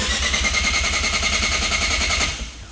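Rotary engine of a Mazda FD RX7 running at a steady idle close by, a continuous even hum with a fast regular pulse throughout, easing off slightly near the end; no voices.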